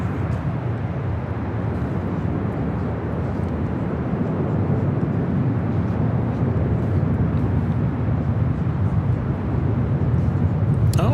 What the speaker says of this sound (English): Have a Qantas A330 taken off on the south side.